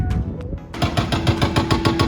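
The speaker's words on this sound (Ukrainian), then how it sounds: "тут продовжується будівництво, як завжди" Construction work at a resort in Bukovel: a loud, steady run of rapid jackhammer-like hammering pounds close by, starting after a brief quieter moment and continuing through the rest of the clip.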